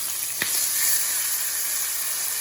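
Red snapper fillet sizzling in butter in a pan, a steady close hiss with one brief sharp crackle early on.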